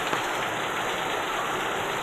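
Heavy rain pours steadily in a dense, unbroken hiss on a surface close by, with no speech.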